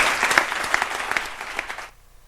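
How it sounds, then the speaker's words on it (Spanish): Audience applause at an award ceremony for the Navarra Puerta de Europa prize in Pamplona, a dense, fairly close burst of clapping that carries on steadily for about two seconds and then cuts off abruptly into near silence. "Te llevas, Gloria, ese aplauso que nace del corazón"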